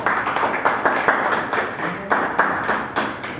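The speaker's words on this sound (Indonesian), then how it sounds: "berikan tepuk tangan." A small class of vocational students applauds after a group presentation: a few people clap in a steady, moderately loud patter of distinct hand claps, with no talk over it.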